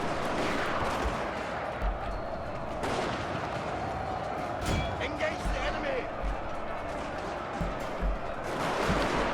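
Troops firing guns in the Total War Shogun 2: Fall of the Samurai battle game, scattered distant volleys and sharp shots spread over steady battlefield noise, heard under someone talking.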